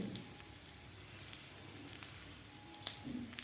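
Besan masala bread frying in a pan gives a faint, quiet sizzle throughout, with occasional light crackles and small ticks close by.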